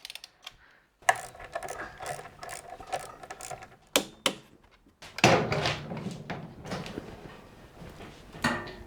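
A wrench is tightened on a motorcycle part to 108 newton meters, giving bursts of ratcheting clicks and metallic clunks, with short pauses between strokes, close up and alone.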